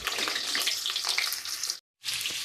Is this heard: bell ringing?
no